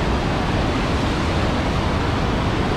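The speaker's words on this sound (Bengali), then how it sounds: "হুড় করে জল যাচ্ছে একেবারে। জোর আওয়াজ জলের।" Water from a dam reservoir in Simlipal pours out in a loud, dense roar, a steady wash of rushing noise with no break or voices.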